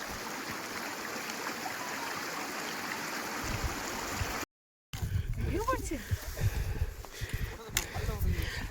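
A mountain stream rushes beside a steep zigzag trail toward Dodital, a steady roaring wash; after a short cut the rushing continues under nearby voices and footsteps.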